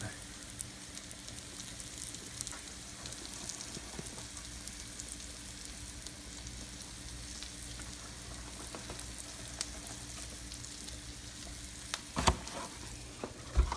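Lobster bisque sauce thickened with flour bubbling and sizzling steadily in a pan, a constant soft hiss with occasional light stirring knocks near the end.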